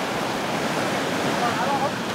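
Ocean surf rolling onto the beach at Sassandra, Ivory Coast, where young village surfers ride the waves; a steady, broad wash of breaking water fills the short stretch with an even roar, close and continuous.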